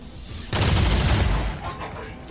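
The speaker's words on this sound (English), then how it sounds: "Full auto fire." Full-auto weapon fire in the turn-based tactics game XCOM 2, a dense burst of shots erupting loudly after a brief quieter lead-in and rumbling for about a second before fading under game ambience.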